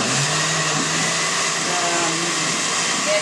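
A blender starts on low speed with hot cream of broccoli and cauliflower soup inside, lid on, giving a steady, loud, close whirring drone throughout.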